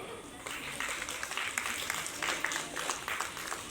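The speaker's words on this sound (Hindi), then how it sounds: "Kindly clap for her." An audience claps for a child at an independence day school program, a faint, scattered round of applause under crowd chatter and talking voices.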